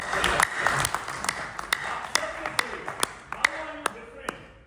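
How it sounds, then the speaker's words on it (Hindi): Sparse, scattered hand claps from an audience at a sales training session, a handful of sharp separate claps rather than full applause, heard over background room noise. "ताली बजा दो भाई, बहुत बढ़िया।"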